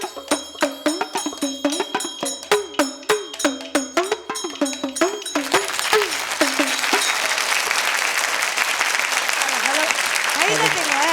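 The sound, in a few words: audience applause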